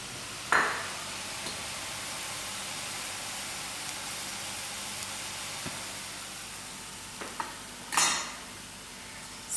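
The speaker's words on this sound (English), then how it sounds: "So while that is frying" Soft, steady sizzling of boondi frying in oil, a quiet hiss throughout with a few brief clinks and stirring sounds.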